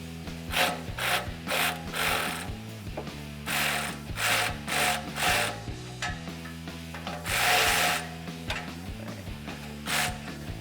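Electric ratchet fitted with an extension and a 16mm socket works loose an exhaust clamp near the passenger-side tailpipe of a RAM 1500 5.7L, giving repeated close bursts of whirring ratcheting with brief pauses between them.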